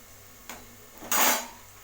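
Vegetables for hotel-style sambar drop into a hot pan of oil: a faint clink, then a loud sizzling hiss that swells and slowly fades, close by and alone.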